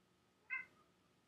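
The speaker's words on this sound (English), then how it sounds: "And you hear my cat." A single short pet cat meow, fairly close, complaining at a shut door inside a house, set against quiet room tone.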